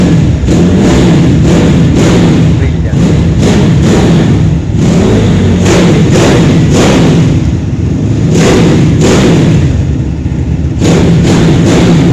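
A loud Aprilia racing motorcycle engine revs repeatedly in sharp bursts, with throttle blips and rumbling idle between, close by and continuous.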